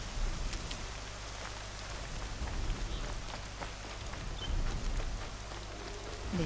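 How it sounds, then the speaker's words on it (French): Soft, steady rain falling on a surface in the video game Horizon Zero Dawn, with scattered drip-like taps and a low hum underneath; quiet and continuous. "La pluie lave le goût du métal."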